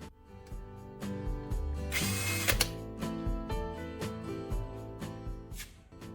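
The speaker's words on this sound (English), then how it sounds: "Press the trigger. The motor starts running." A cordless drill motor runs steadily after its dead battery was revived, a close whirring drone with ratcheting, clicking pulses and a brief louder burst partway through.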